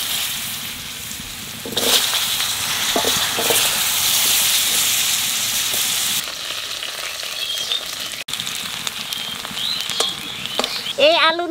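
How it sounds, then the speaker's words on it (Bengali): Potatoes frying in leftover fish-frying oil, a steady close sizzle and crackle throughout with brief stirring clatter and a few louder pops near the end. "মাছ ভাজা তেলের মধ্যে আলু কয়েকখান ভাজিয়ে নেব"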